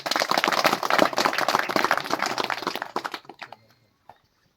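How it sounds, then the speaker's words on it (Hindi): An audience at a seven-day tribal handicraft camp in Udaipur applauds to welcome the artists, with dense, loud clapping that thins out and stops after about three seconds, leaving a few scattered claps. "एक बार मैं चाहूँगा कि जोरदार तालियों से स्वागत करें"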